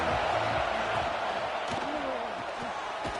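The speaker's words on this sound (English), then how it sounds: "This crowd ready to make its presence known" Loud, dense roar of a football stadium crowd at a college game, steady and enveloping throughout with scattered shouts and thumps rising out of the din.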